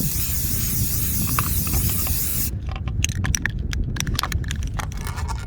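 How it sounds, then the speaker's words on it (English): Spray paint hisses onto a tumbler in a steady, close, loud burst for a few seconds, then breaks into short, sputtering spurts of spray. "we're going to shake the paint real good and we're going to give it a good coat"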